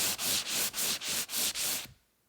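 Wet sandpaper rubs over a freshly painted fabric wingback chair coated in Heirloom Traditions Finish All paint, giving six steady back-and-forth gritty strokes, close and fairly loud, before stopping into near silence.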